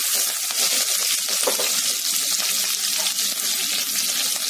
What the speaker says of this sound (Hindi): हम भून लेते हैं